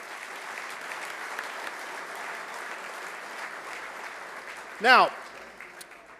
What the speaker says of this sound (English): Give yourselves an incredible round of applause because you deserve it.